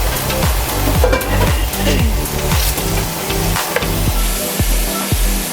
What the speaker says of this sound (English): And we just keep repeating this process until all the meat is seared on all sides.